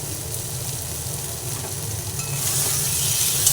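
Foli fish frying in oil while being stirred, giving a steady loud sizzle that swells a little toward the end, with no voices.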